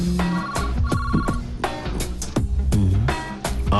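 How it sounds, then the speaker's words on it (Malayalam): A phone rings with a loud tonal ringtone pattern, repeated bursts over busy background sound in a household setting. "phone anti phone"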